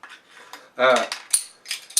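Metal cap being pried off a Two Roads Espressway Oatmeal Coffee Stout beer bottle, a loud scraping clink followed by several sharp metallic clicks and rattles, close up with no talking.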